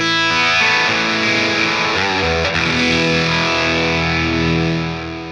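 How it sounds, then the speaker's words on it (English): Heavily overdriven electric guitar through a TheGigRig G3 switching system with a sweeping phaser after the drive, sustained chords ringing loud and continuous, fading slightly at the end. "Now let's add a phaser, but only after the drive."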